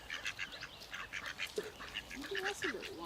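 Ducks on a river quack and call in short clustered bursts, with a few lower honking notes mixed in, set against soft outdoor background noise and faint voices.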